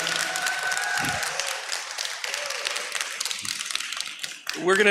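Audience applause at a business forum during an annual meeting, a broad wash of clapping sustained throughout, with speech and a voice rising at the end.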